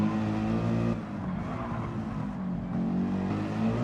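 Opel Vectra race car in a racing video game on the Nürburgring Nordschleife, its engine droning steadily and loudly with a slight dip in pitch, running on with no talk over it.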